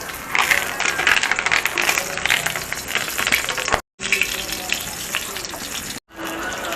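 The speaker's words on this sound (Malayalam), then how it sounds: "അപ്പോൾ ഇതിനകത്ത് ഇട്ടിട്ട് അത് ഫ്രൈ ചെയ്തെടുക്കുകയാണ് ചെയ്യുക" Food frying in hot oil on a tawa griddle at a roadside street-food restaurant in Parassinikkadavu, a loud continuous crackling sizzle with scraping and stirring clatter, broken by two brief silent gaps.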